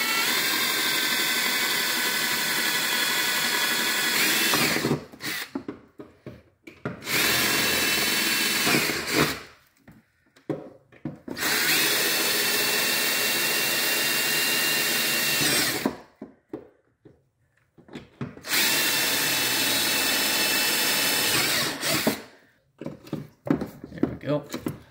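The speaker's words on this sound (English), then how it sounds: "So now we're going to drill these holes." A power drill bores holes into a C7 Corvette to mount a carbon fiber ZR1 wing, with four long, loud, whining bursts separated by short pauses of near silence.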